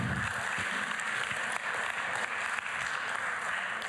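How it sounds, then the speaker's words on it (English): An audience at a panel event applauds continuously, a dense, steady clatter of many hands clapping, fairly loud and without talk. "Let's give one last round of applause for our panelists."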